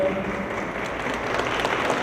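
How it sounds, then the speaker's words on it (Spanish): An audience at a data-protection law panel gives steady applause, a dense even patter of many hands clapping that fills the whole stretch, moderately loud indoors. "otro aplauso a la doctora"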